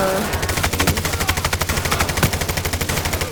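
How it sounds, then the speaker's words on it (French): Rapid automatic gunfire in the heist shooter Payday 3 during a bank robbery, a loud, close, fast even stream of shots lasting several seconds, with a couple of brief metallic pings mixed in. "Là, oui, il y a des petites balles."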